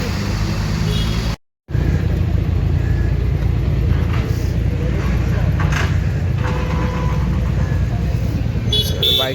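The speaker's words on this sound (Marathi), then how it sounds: "आधी कार निघणार आहे बघा" Cars setting off one after another at a Sunday car meet in Mumbai, including a fully modified Jaguar, Mercedes and vintage cars; loud steady engine and traffic rumble with a brief horn toot, a crowd murmuring nearby.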